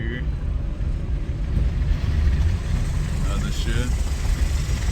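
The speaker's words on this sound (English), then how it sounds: "I'm gonna just take it down the street and just make sure it hits the gears" A 2016 Hyundai Accent drives down the street, a steady low rumble of engine and road noise from inside the car, with someone speaking briefly over it.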